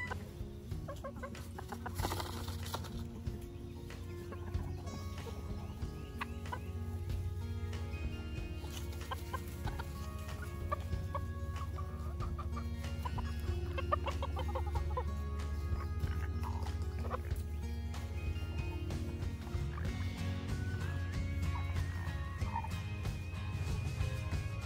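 Backyard chickens being fed hornworms cluck and call at moderate distance throughout, with a steady outdoor background and faint voices now and then.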